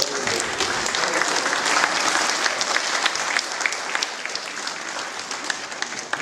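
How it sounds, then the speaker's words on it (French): Church congregation at an Easter service claps for a person, a sustained, even wave of applause from a large group that fades slightly toward the end. "On peut applaudir Gabriel"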